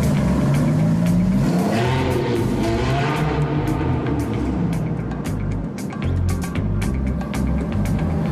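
Ferrari engine revving loudly and continuously, rising and falling pitch sweeps as it accelerates, close and dominant throughout with no talk.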